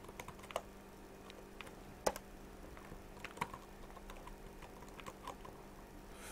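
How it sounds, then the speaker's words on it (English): Soft, close keyboard typing while entering text for a flyer design in Photoshop, a steady quiet patter of keystrokes with a few sharper clicks over low background hiss. "Reduce my font size to about 10 and I type in Academy"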